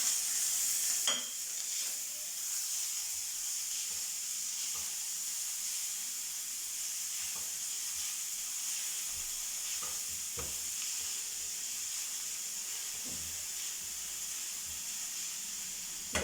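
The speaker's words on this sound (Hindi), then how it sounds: "जो प्याज चॉप की हुई है वो हम ऐड करेंगे। इसको हल्का सा लाइट ब्राउन करेंगे।" Chopped onions fry steadily in a pan over medium heat, a continuous bright sizzle and hiss running throughout with a few soft stirring knocks, close and moderately loud, no talking.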